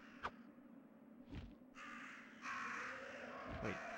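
Crow cawing in the video game Resident Evil, a few harsh caws spaced apart over a quiet, low-level game background, with a brief broadband rasp later on.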